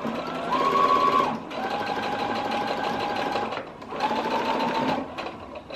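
A sewing machine stitches buttonholes in a linen skirt, whirring steadily in close, even bursts, with a short pause before the final run.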